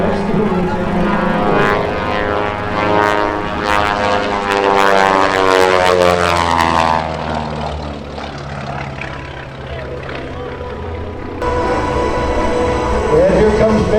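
A Twin Beech twin-engine propeller airplane flies aerobatics overhead, its loud droning engines sweeping in pitch as it passes and rises again toward the end.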